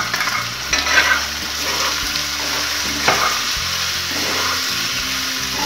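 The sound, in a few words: potatoes frying in pan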